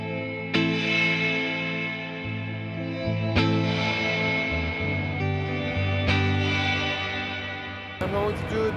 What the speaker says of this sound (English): strum goes through, and the reverb just kind of adds later